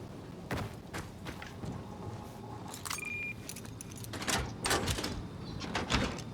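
Locked door in the video game Dying Light 2 rattles and clunks as someone tries it, a series of metallic jangles and thuds repeating over several seconds against a low ambient game background.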